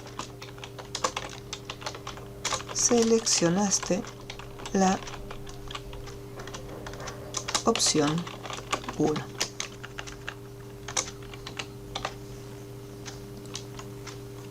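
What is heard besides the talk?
typing on a computer keyboard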